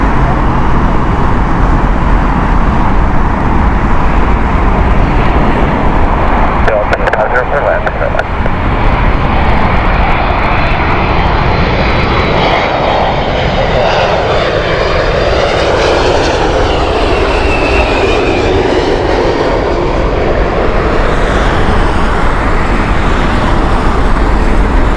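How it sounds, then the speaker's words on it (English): An Airbus A330 roars loud and close at Heathrow Airport, its jet engines producing a steady, broadband rumble that holds throughout with a slowly shifting whine as the aircraft moves. "Gotta love an Airbus A330,"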